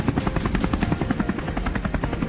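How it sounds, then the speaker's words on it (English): A helicopter flies low over a lush green field, its rotor chopping in a steady, rapid rhythm that stays loud and close throughout, with no voices. "We quickly maneuvered the helicopter into position, ready for an intense sweep"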